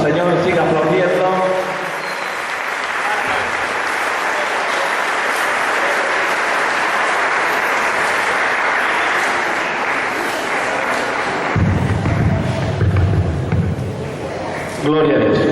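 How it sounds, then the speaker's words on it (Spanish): A church congregation at an evangelical congress applauds loudly and continuously, a dense crowd of clapping sustained throughout, with a preacher's voice urging it on over the top. "Dale más fuertes aplausos al que reina, al que vive."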